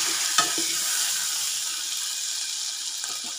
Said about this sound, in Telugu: అల్లం వెల్లుల్లి పేస్ట్ పచ్చివాసన పోయేంత వరకు ఇట్లా కలుపుకోవాలి